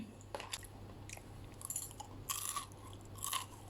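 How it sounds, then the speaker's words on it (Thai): Crispy fried three-layer pork neck crunched in close, quiet bites, a series of crisp crackling chews spread over a few seconds with no talking. "อันนี้ก็คือเป็น คอหมูสามชั้นทอด ปังมากแบบหื มกรุบกรุบกรอบกรอบ"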